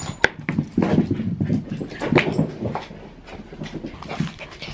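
An excited dog pants rapidly and whimpers in short high bursts before going out for a walk, close by, with snuffling and scrabbling movement throughout and no talking.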